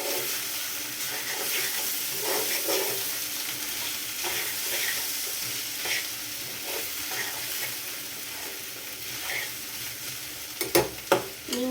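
Prawn gravy with ginger garlic paste sizzles and fries in a pan while a spoon stirs it, a continuous close hiss with soft scraping strokes and a few sharp clinks near the end.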